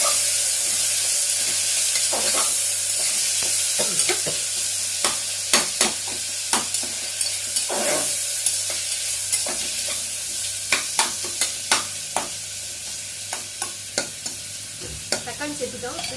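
Tomatoes fry with softened onions in a pot for a one-pot black-eyed pea biryani, giving a soft steady sizzle broken by repeated sharp scrapes and taps of a spoon stirring against the metal.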